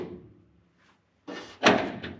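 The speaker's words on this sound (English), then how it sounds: "Get in, slam the door, perfect." A car door in a video game thuds shut with a solid slam, preceded by a fainter clunk as someone gets in, close and brief with no talking.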